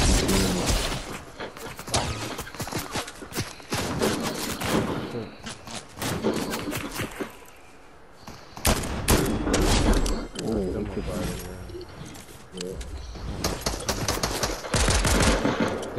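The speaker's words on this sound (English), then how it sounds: "Someone's trying to shoot at me." Dense video-game gunfire erupts in rapid automatic bursts and volleys that run almost continuously, pausing briefly midway. It is loud and close, with a voice talking at times underneath.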